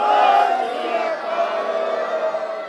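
A large political rally crowd in Sangrur backing Simranjit Singh Mann roars back the Sikh response to the call Bole So Nihal, a loud, dense mass of shouting voices sustained throughout.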